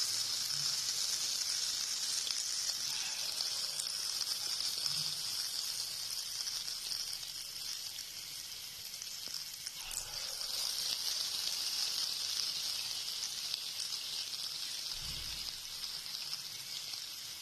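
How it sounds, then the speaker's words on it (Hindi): Steady, close sizzling of dahi bara batter frying in hot oil, a continuous bright crackle with occasional soft bubbling and faint low thumps. "तेल माशाल्लाह से गर्म हो गया। और गोल्डन होने तक पकाऊंगी।"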